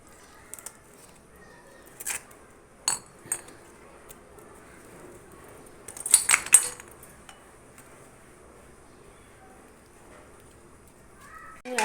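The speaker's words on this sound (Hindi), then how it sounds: "इसमें मैंने आइस क्यूब डालूँगी सारे" Ice cubes dropped into a bowl while preparing peach juice, a few scattered sharp clinks and clatters with a louder burst of rattling cubes midway, separated by near silence.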